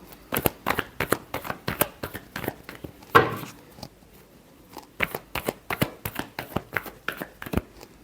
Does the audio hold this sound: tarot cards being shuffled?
yes